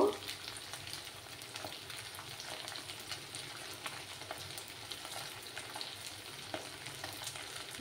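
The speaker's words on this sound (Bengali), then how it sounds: "এইভাবে আমি আরো কিছুক্ষণ মাছগুলো ফ্রাই করে নেব" Small fish frying in a pan for a Bengali fish curry, a soft crackling sizzle with scattered pops and faint stirring, fairly quiet and steady throughout.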